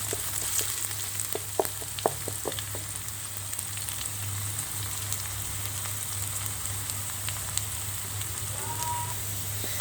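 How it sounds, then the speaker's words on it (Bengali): Chopped ginger and garlic fry in a pan for a khuder bhat rice dish, giving a continuous close crackling sizzle with occasional sharper pops and faint stirring, steady and fairly soft throughout. "আদা কুচি রসুন কুচি সবগুলি উপকরণ আমি একটু ভেজে নেব"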